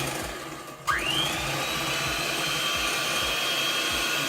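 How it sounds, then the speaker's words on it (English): An electric whisk beats chocolate mini roll batter: a steady motor hum that jumps to a higher, even whine about a second in and holds it without pause, with no voices. "Yes, we're going to be using the whisk."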